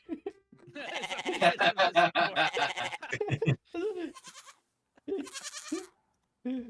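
Human voices imitate shrieking, bleating goats with loud wavering cries in several bursts, mixed with laughter and chuckling.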